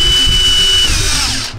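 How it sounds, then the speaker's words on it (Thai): A power drill bores steadily into a concrete floor or wall during a home extension. The whine is loud and close, stays continuous, and winds down at the end. "แนวพื้นแนวผนังบ้านใครเป็นปูนนะครับเราก็เจาะนะครับเพื่อฝังปุ๊บครับ"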